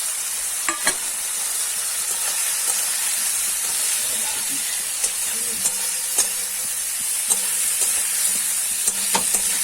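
Cauliflower and potatoes fry in rohu fish oil, a loud dense steady sizzle with occasional stirring clicks and spatula knocks close by.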